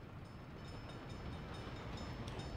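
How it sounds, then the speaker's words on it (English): An oil or fuel train rolling past in Workers & Resources: Soviet Republic, heard as a steady, fairly faint rumble of rail wagons with no talk over it. "Might have been a fuel train."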